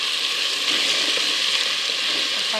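Tomatoes and mint sautéing in a pan, a steady close sizzle and crackle of frying that holds evenly for the whole stretch with no talking.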